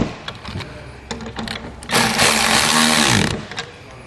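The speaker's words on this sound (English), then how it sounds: "We'll take a half inch socket and we'll tighten them down." A half inch socket is worked to tighten bolts on an ATV winch bracket, with a few light clicks and then a louder continuous ratcheting whir for about a second and a half, close up.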